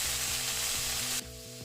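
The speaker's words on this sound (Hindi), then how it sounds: "पैन में तेल डाल के आलू और प्याज फ्राई कर लेंगे" Potatoes and onions fry in oil in a pan, a loud, dense sizzle that cuts off abruptly partway through, leaving a quieter steady tonal background.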